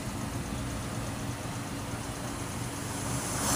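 Cars idle and creep along in slow traffic on the Maharlika Highway, a steady low engine rumble with broadband road noise, moderately near and continuous, with no talking.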